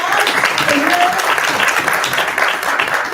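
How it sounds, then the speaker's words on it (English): Audience applause at a Democratic primary candidate forum, a steady dense roar of many hands clapping throughout, loud and close, with no speech over it. "Here's a round of applause"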